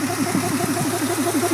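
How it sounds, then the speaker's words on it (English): A 1964 GMC truck engine with new exhaust idles evenly up close, a steady low rumble with a regular pulsing beat throughout. "This engine's running really good"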